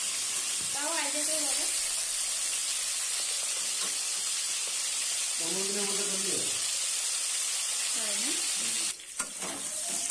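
Potatoes sizzle and hiss steadily in hot oil while being fried for an eggplant and hilsa fish dish, a loud, continuous frying crackle with a voice speaking briefly over it a few times.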